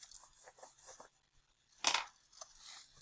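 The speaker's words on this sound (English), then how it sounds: "So when I take my scissors, I'm just cutting up where my lines are." Scissors cut a paper hippo mask with a series of soft close snips and paper rustles, then one sharper, louder crunchy cut near the middle and a few quieter snips after it.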